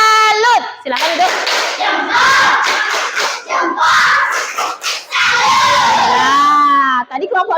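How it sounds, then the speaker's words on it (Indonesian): A classroom of pupils performs a 'tepuk salut' clapping chant, rhythmic group claps mixed with loud children's voices shouting and chanting together, close and energetic throughout. "Tepuk salut."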